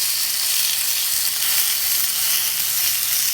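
Kangaroo loin sears in a hot cast iron pan, giving a loud, close, steady hiss of sizzling fat with no pauses.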